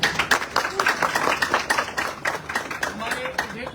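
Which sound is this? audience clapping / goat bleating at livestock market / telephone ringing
audience clapping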